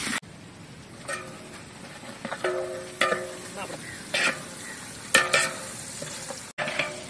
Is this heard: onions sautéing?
yes